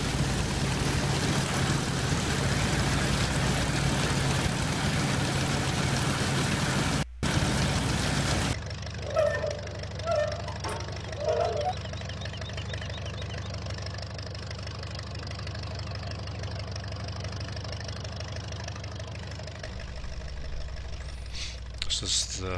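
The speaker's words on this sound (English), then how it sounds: "This is the John Deere 30 combine. So you can see as it rolls forward and rolls back" A John Deere 30 combine harvester engine in Farming Simulator 15 idles with a steady, fairly loud drone that shifts in tone partway through and continues underneath.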